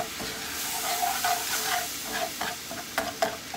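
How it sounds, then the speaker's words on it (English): A whisk scrapes and stirs steadily through country gravy as milk goes into a hot pan of drippings, with a soft sizzle and bubbling underneath and a few sharper clinks of the whisk against the pan near the end. "Okay, so let's add some milk and just slowly add it. And you just keep on whisking the whole time."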